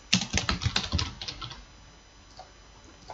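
Keys tapped on a computer keyboard while entering an address into a parcel-delivery web form, a close, brisk run of clicks for about a second and a half, then a few faint scattered taps in near quiet.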